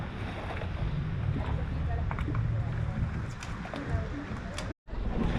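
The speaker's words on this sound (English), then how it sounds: "Here's our boat coming." A boat's engine drones steadily over water in Chilean Patagonia, with wind buffeting the microphone and people talking in the background.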